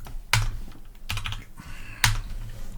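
Computer keyboard typing while a vimrc file is edited: a few sharp keystroke clusters close to the microphone, spaced irregularly with short pauses between bursts.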